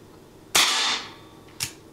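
Two sharp gunshots from a Ruger SP101 .22 revolver fired during outdoor testing, a loud crack with a short ringing tail followed about a second later by a second, softer shot, with no talking.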